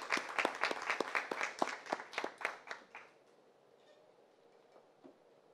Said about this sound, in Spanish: vamos a recibir con un aplauso a la señora Leila Arbaje